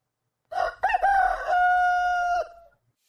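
A rooster crows once as an inserted sound effect: a loud, clear cock-a-doodle-doo with a stuttering start, then a long sustained tonal call that fades out, alone against silence.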